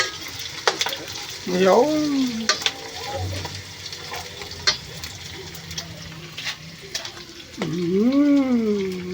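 Food sizzles and fries in a pan while being stirred, with scraping and clinks of the utensil and a voice speaking briefly over the cooking.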